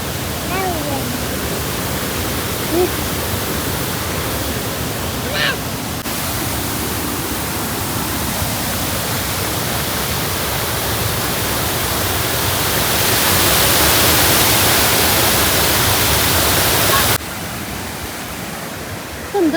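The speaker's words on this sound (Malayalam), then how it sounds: "ഇത് പുഴയാണേ" A river near Malampuzha in Kerala rushes steadily close by, a dense unbroken wash of flowing water filling the whole stretch and swelling louder toward the end.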